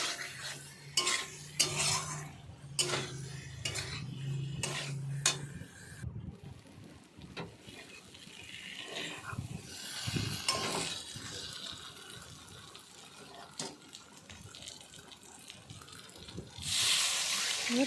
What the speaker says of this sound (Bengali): সিদ্ধ আলু দিয়ে বেশ কিছুক্ষণ ভালোভাবে নাড়াচাড়া করে মশলাগুলো আলুর গায়ের সাথে লাগিয়ে নেব ভালো করে